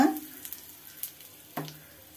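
Asafoetida dropped into hot oil while making Andhra-style gongura chutney with dried red chillies gives a soft crackling sizzle, with a few sharper pops and stirring clinks, faint and close, and no talking.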